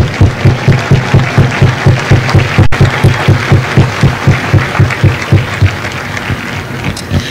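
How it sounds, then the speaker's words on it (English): A large audience at a Marine Corps Recruit Depot San Diego graduation for Hotel Company applauds the families, a loud, dense and sustained wash of clapping that carries steadily throughout before easing slightly at the end. "Ladies and gentlemen, you join me in a round of applause for the families of Hotel Company."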